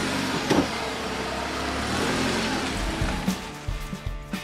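A Jeep Compass crossover driven off-road on a trail, with a moderate engine hum from inside the cabin, some rattles and knocks from the rough ground, and a few thumps toward the end.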